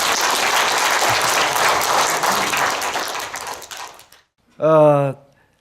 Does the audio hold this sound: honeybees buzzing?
no